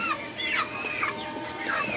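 Several chickens cluck in short, overlapping bursts close by as they feed on rice, a busy, chattering flock sound.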